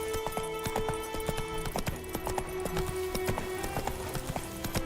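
Horse hooves clip-clopping at a steady trot-to-gallop rhythm in The Witcher 3, close and even, over a constant sustained game music tone.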